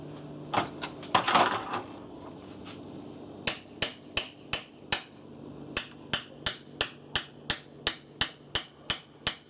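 Sharp metallic hammer strikes on Tremec T56 gearbox parts during a rebuild, a few scattered blows then a fast steady series of about fifteen evenly spaced hits, close by.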